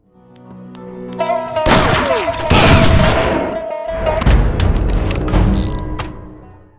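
Gunfire from the Red Steel 2 video game, with loud bursts and booming shots over a sustained tone, dense and close for several seconds with no talk.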